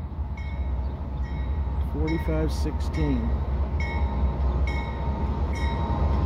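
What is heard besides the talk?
freight gondola train passing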